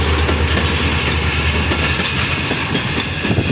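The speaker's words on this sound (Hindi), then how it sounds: "हज़ारा एक्सप्रेस कराची और हवेलियाँ के दरमियान चलने वाली एक वाही ट्रेन, जिसको लीड पर लगा हुआ है JMU 30R 8221।" Hazara Express passenger train led by a JMU 30R locomotive rolls through a station between Karachi and Havelian in rainy weather, a loud continuous rumble of wagons and clattering wheels filling the whole stretch with no talk.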